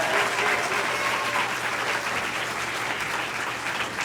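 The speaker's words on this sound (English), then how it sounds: "So I'd like to just give these students another round of applause." Audience applause for student string players at a school spring concert, a steady, dense wash of clapping from a full room lasting the whole few seconds.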